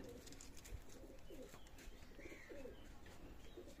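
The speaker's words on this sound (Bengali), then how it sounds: "সেখানে একজোড়া রানিং পেয়ার কবুতর দেখাচ্ছি" Teddy highflyer pigeons coo softly in a series of repeated rolling calls, close but faint, with a few light chirps and quiet background hiss throughout.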